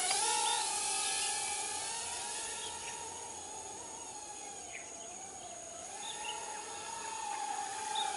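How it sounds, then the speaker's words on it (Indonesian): Udi RC Freelander U28 budget camera drone flying back and forth outdoors, a steady high-pitched propeller whine that wavers in pitch as it moves, faint and continuous with no talking. "Keren, drone-nya terbang bolak-balik"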